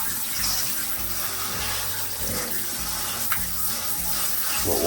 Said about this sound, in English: I give it a quick rinse with some cold water.